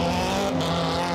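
Nissan S13 drift car with an RB25 turbo engine on Nitto tires spinning out at a Formula Drift competition in Wall, New Jersey: a loud, steady engine roar blended with tire squeal, close and continuous throughout.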